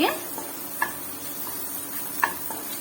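Garlic frying in melted butter in a pan for white sauce pasta, a soft continuous sizzle with a few sharp clicks of a utensil stirring against the pan.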